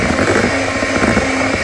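Electric mixer creaming margarine and sugar in a bowl, a steady buzzing motor whine with a slightly pulsing rhythm, close and loud throughout with no voices.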